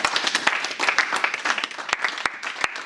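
A youth group at a church youth night in Paris claps and cheers for themselves, a dense, steady burst of many hands applauding together throughout.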